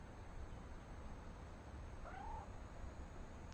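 In the video game What Remains of Edith Finch, a cat gives a single short meow midway through, clear but modest in level over a low steady background hum.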